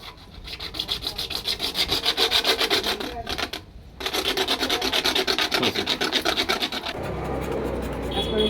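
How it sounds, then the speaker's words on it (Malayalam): Paint scraped off a PVC pipe while replacing a broken ball valve: steady, rapid rhythmic rasping strokes, close and loud, with a brief pause partway through before the scraping resumes and then stops. "ഈ ഇതിൽ പെയിൻ്റ് ഉള്ളതെല്ലാം നമ്മൾ ചിരണ്ടി കളയണം."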